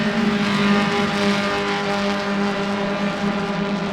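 Race car engines at Sebring's Cabin Fever event drone in a loud, steady roar as a pack runs the track, the engine note holding fairly even with no voices over it.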